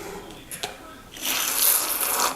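Water is poured onto soil in small cups of cucumber seedlings, starting with a few soft drips and splashes, then a steady close gush of pouring that continues to the end.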